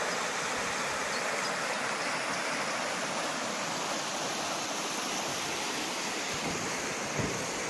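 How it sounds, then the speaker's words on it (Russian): A small tributary stream of the Ugra river flows with a constant, full rushing wash of water, steady and close throughout with no talk. "Какая-то речка, что ли? В реку Угру."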